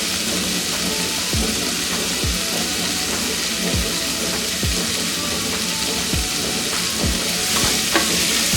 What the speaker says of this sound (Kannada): ಕಡಲೆ ಹಸಿಟ್ಟು ಹಾಕ್ಕೊಂಡು 1 ನಿಮಿಷದಷ್ಟು ಇದನ್ನು ಇದೇ ರೀತಿ ಎಣ್ಣೆನಲ್ಲೇ ಫ್ರೈ ಮಾಡ್ಕೊಳ್ಬೇಕು.